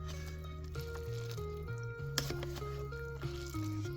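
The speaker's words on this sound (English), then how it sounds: "this noodle is making a particular sound when I stir it" Instant spicy chicken ramen noodles being stirred in broth, giving faint, soft wet squishes and light foamy slurping under a low background hum with a few tonal beeps, quiet and close.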